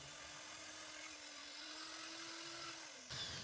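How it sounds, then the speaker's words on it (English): A drill spins a wire brush across the valve seats of a VW MK1 engine head, giving a steady high-pitched whine that holds for about three seconds before cutting off. "back at it again with the wire brush attached to the drill to just go over it once more"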